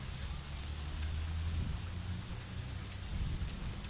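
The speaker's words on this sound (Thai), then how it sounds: "ฝนตกแดดออก" Steady light rain hisses evenly on surfaces, a soft continuous patter with a low rumble underneath and no clear voices.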